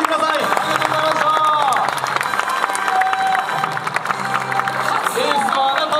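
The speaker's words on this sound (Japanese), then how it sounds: "小田さんは新之助投手に大きな拍手をください。" A crowd applauds and cheers for pitcher Shinnosuke Ogasawara at a Chunichi Dragons talk event, loud clapping mixed with voices and shouts, while music or talking runs underneath.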